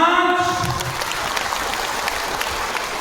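A group clapping with four fingers at a party gathering: a dense patter of light, quick claps that runs on evenly for a few seconds after a brief voice at the start.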